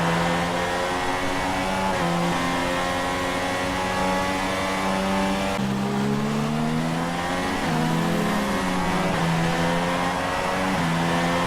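An F1 2016 race car engine in the video game screams loud and steady, pitch rising and dropping through gear changes as it accelerates, continuous and close throughout.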